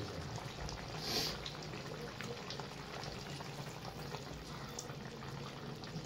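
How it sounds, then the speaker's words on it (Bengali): Chilli chicken bubbling in a pot at an outdoor feast, a steady broadband simmer and hiss with no clear pauses, fairly close and constant throughout, with a brief louder burst early on. "চিলি চিকেন ফুটছে।"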